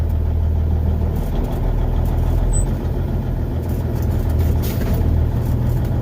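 An old log truck drives and brakes, its engine rumbling loud and low with steady mechanical noise and a few faint squeaks near the end.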